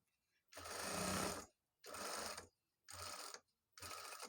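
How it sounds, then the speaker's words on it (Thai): A sewing machine stitches a shirt side seam in four quick separate runs, each a close, even mechanical whir that stops sharply, with near silence between them. "ทีนี้ก็เย็บนะคะ เย็บฝั่งนี้นะ เย็บนิดเดียว ไม่ต้องห่างเยอะ"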